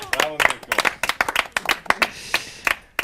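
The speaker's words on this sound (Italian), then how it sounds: "Ed eccola qua, l'applauso fatelo." A small indoor audience claps at a cycling awards presentation, with scattered, uneven hand claps rising and thinning over a few seconds as voices talk underneath.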